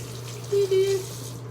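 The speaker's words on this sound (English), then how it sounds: "So then you gotta rinse all the cleanser out." Tap water runs briefly as cleanser is rinsed out of a makeup brush: a short, close splash lasting about half a second over a steady low hum.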